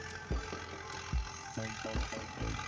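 A large tractor pulls a super seeder sowing wheat in a field, its engine running in a steady droning hum with periodic low thuds and rattling knocks from the working machinery.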